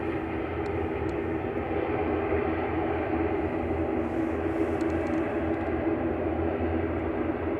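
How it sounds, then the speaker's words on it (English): An Emerald Airlines ATR 72-600 turboprop on arrival at Manchester Airport gives a steady, even drone with a broad engine roar that holds at a constant level, heard from a distance. "Airlinks Regional there, operated by Emerald Airlines UK, coming in from Belfast, ATR 72600"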